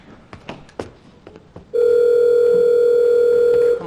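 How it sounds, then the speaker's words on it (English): A telephone line rings out while waiting for someone to pick up: after a few soft knocks and rustles, a loud, steady electronic ring tone sounds unbroken for about two seconds. "Come on, pick up the phone."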